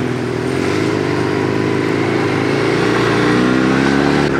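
Motorcycle engine running steadily and building slightly as the bike sets off, leaving a small town in southern Thailand, a continuous loud mid-pitched drone with no talk.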